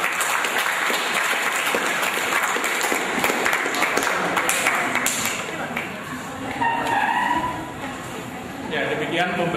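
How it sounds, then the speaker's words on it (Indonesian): High school students at SMA N 1 Pati applaud the first group after their abiogenesis presentation, a sustained wash of many hands clapping through a classroom, with voices mixed in as it tapers. "Beri tepuk tangan untuk"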